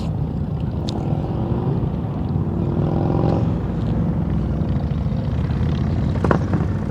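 A motorcycle idles and rolls along at slow speed during riding practice, its engine and exhaust pipes giving a steady low rumble that stays close and even throughout, with faint wind noise and no talking.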